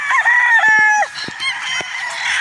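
A gamefowl rooster at a Batangas game farm crows loudly and close, followed by a few short clucks and other birds calling faintly behind, with no talking.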